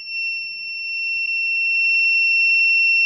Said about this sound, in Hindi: इसके साथ मैं आपको बज़र की आवाज़ भी देने लगा हूँ।